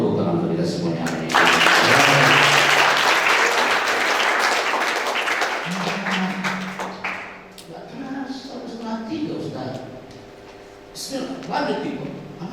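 Audience applause at a teachers' motivational seminar at a Gontor campus, a loud burst of clapping that swells then fades under a speaker's voice and background music.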